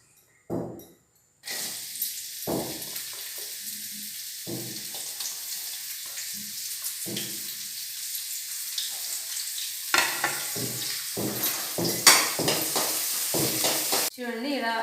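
Ingredients for a Nalleru rice dish frying in a pan with a modest ladle of oil, a continuous hiss and crackle under intermittent talking, with scraping and a brief clatter near the end.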